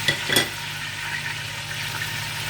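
Meat and onions hitting hot ghee in a pressure cooker give a loud initial sizzle with a couple of sharp crackles, settling into a steady, close frying hiss with no talking.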